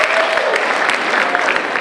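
Loud, close crowd applause at a high school Black History program, a dense burst of clapping with faint voices and cheering mixed in, lasting under two seconds.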